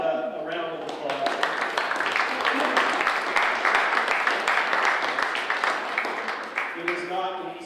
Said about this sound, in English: everybody give Rob a round of applause